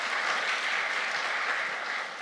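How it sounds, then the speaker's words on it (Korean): A church congregation applauding a departing missionary during a Sunday service, a dense steady wash of clapping from many hands that carries on evenly for a couple of seconds, with no voices over it. "축복하는 마음으로 박수로 격려해 주시기를 바랍니다."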